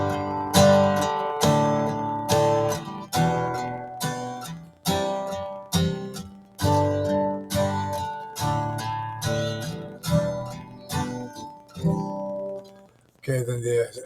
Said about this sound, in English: You can do kind of a ghost strum on 2 and 4